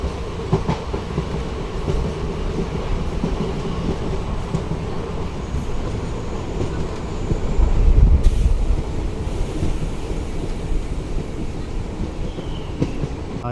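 India's first hydrogen train on the Sonipat to Jind route rolls along the rails with a steady loud rumble and clickety-clack, wind buffeting the microphone and a heavier surge of rumble midway.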